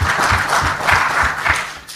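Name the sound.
audience applause for a panel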